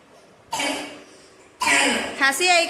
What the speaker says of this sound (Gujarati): એકદમ ખાંસી આવી ગઈ.